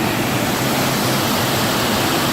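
Waterfall at Sweet Arrow Lake, heard up close as a loud, continuous broadband rush of falling water, steady throughout with no other sounds.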